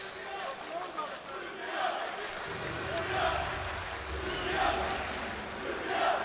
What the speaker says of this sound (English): cheers from the Serbia fans applauding the defense